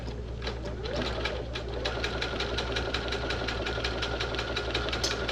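Sewing machine run by foot treadle, stitching at a steady rapid rhythm with even mechanical ticking over a constant motor hum, close and continuous.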